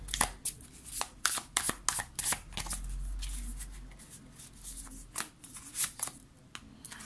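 A deck of high-quality Muse Tarot cards is shuffled by hand, making a rapid, close run of papery riffles and slaps that rises and falls in busy bursts with no talk over it.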